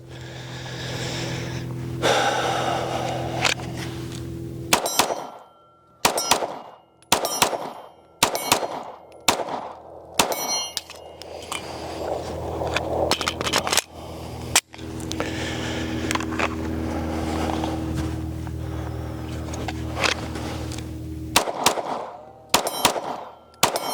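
A Springfield Armory Echelon Comp pistol fires quick strings of sharp, loud, close shots, with short pauses and breathing between bursts.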